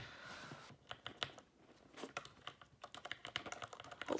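Typing on a Ducky MIYA Pro 65% mechanical keyboard with rainbow RGB lighting. Quick, close, fairly quiet key clacks come in uneven bursts with brief pauses between them.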